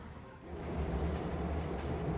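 A steady low rumble of a train rolling along the rails to Alexandria, Egypt, growing slightly louder, with a faint rhythmic clatter underneath.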